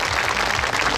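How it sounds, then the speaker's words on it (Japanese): Dense, continuous applause from a crowd of motorsport fans at a Super GT team talk show at Fuji, a steady wash of many hands clapping together for the full moment. "今一度大きな拍手をお願いいたします"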